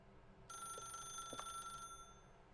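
A telephone in The Stanley Parable rings with a steady electronic trill, one sustained burst lasting over a second, clear and close over a faint background hum.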